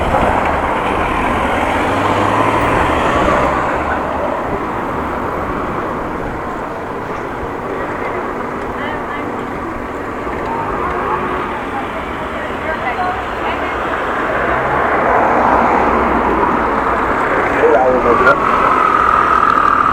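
Continuous rumbling city traffic noise in Groningen with vehicles passing, swelling and fading over time, heard at a moderate distance.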